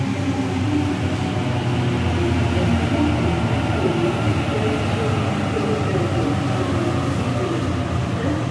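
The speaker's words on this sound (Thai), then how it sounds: "อันนี้ก็คือรถไฟเข้าเมืองนะ" A commuter train into Sydney rumbles steadily and loudly throughout, a constant rolling roar with no breaks.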